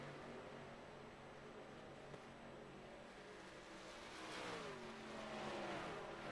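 Race cars circling the track at Kentucky at night, a steady distant engine roar that swells as cars pass and accelerate, with no talk over it.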